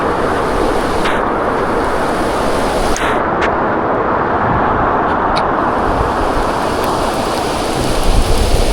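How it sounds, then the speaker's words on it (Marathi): Heavy rain roars steadily with strong rushing wind noise, heard while riding a motorbike through a downpour on a misty hill road; no voices. "पाऊस कसा लागतोय"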